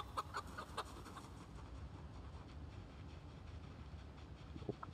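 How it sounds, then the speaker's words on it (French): Chickens cluck in Project Zomboid, a few short clucks near the start and again at the end, faint over a steady low background rumble, with no talking. "je récupère des poules"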